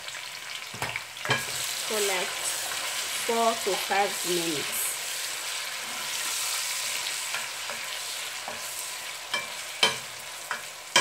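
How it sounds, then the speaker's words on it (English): Onions fry in a pan for a tomato stew, giving a steady sizzle with stirring scrapes and clinks. A brief voice speaks over the frying partway through. "Then I fried my onions for like"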